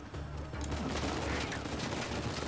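Gunfire in the video game Uncharted 4: a dense, continuous spray of shots runs throughout at steady loudness, with no clear gaps between bursts.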